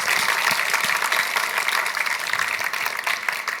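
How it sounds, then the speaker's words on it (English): Audience applause at a conference talk, a dense, steady crowd clapping that carries on at even strength throughout, with no voices over it. "Let's have a huge round of applause for Thomas."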